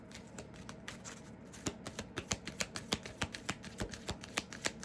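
Tarot cards being shuffled close by, quiet at first, then a rapid series of crisp riffling snaps and taps in a fairly regular rhythm, with no talk.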